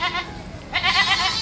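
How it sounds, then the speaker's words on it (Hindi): A pregnant goat bleats at a goat market in Byculla, Mumbai, with two wavering, nasal calls close by, a short one followed by a longer, louder one over a low crowd murmur. "लोडेड बकरी"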